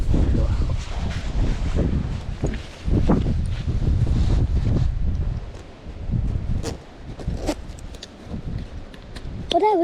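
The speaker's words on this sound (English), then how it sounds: "It's too windy" Strong wind gusts buffet the microphone outdoors at a lakeside fishing spot, rumbling in uneven surges with rustling underneath while people talk nearby.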